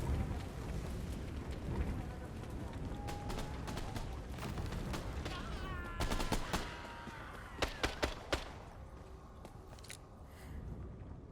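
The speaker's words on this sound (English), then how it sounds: "gunfire going on way over there." Distant video game gunfire crackles in scattered bursts over a noisy ambient background, with a few sharper shots and metallic clanks toward the end.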